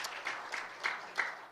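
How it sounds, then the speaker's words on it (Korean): Brief, soft applause from a church gathering for its youth group, heard as a few scattered claps rising and falling over a second and a half, with no talking. "박수 한번 쳐줘"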